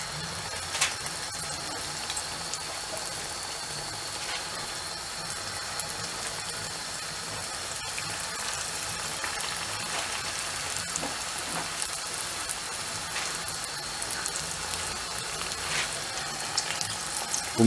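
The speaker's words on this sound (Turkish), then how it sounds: "Kızgın yağ bunları atıyoruz." Soft yeast dough pieces fry in hot oil, giving a continuous bubbling sizzle that stays even and fairly close for the whole stretch, with a few faint clicks and knocks of utensils and no talking.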